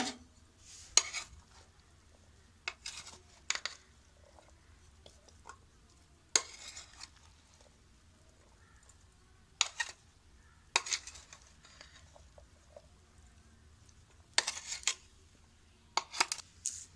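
Chana chaat stirred and mixed in a bowl, with sparse bursts of spoon scraping and clinking separated by quiet gaps, close and fairly soft.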